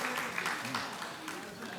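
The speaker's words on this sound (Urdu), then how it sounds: "کیا کہنا ہے شب بھائی, بھرپور تالیوں میں" At the close of a mushaira poetry gathering, an audience claps in a steady, moderately loud patter while a voice speaks over it.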